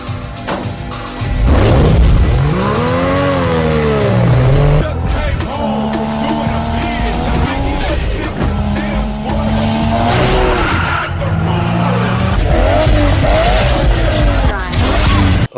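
Nissan Skyline R34 GT-R racing in a Fast and Furious scene, loud tire squeal and skidding with revving engine, rising and falling pitch sweeps, continuous throughout, with brief voices mixed in.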